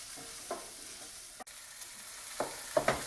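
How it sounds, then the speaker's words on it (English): Peppers, onion and garlic sizzle softly in a pan, a quiet steady hiss with a few scattered spoon scrapes and one sharp click near the middle, close by and without speech. "now let's stir and cook them down a little bit before you add your meat"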